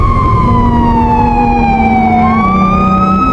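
Ambulance siren sound effect for a ghost story, a loud continuous wail whose pitch glides slowly downward then rises again, steady and close throughout with a low engine rumble beneath and no voices.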